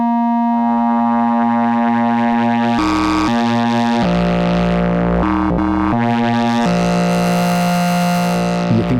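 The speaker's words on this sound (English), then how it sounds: "you can get some really nice FM style tones from it. Adding some FM to the PWM" Yamaha CS-15 vintage analog synthesizer plays sustained buzzy tones with pulse-width modulation and FM, shifting abruptly between pitches and timbres, some passages turning metallic and clangorous.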